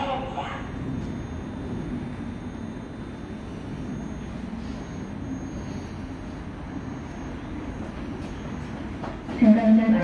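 Seoul Subway Line 4 / Suin-Bundang Line electric train at Handae-ap station, a steady low rumble of railcars running through the platform for about ten seconds, with a louder burst near the end.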